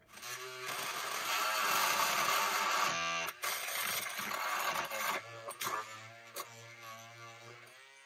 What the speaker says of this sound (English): I'm gonna take my oscillating tool, go in there and cut that staple.